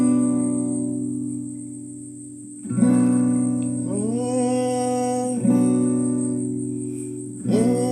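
A barre chord is strummed on a guitar three times, each strum ringing out and sustaining before the next, heard close with no talking.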